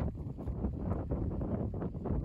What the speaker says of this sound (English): Pretty windy at the top